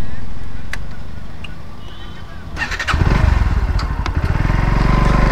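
A Bajaj Pulsar NS 125 motorcycle engine starts and revs up midway, then keeps running loud and close with a throbbing, uneven rumble while riding.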